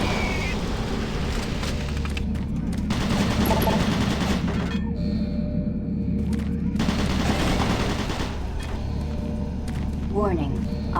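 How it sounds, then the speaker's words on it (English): Automated turret guns in DOOM 3 fire in rapid sustained bursts, loud and close, broken by a short pause midway before the barrage resumes, while a synthetic warning voice speaks over the gunfire. "Warning. Automated turret guns online."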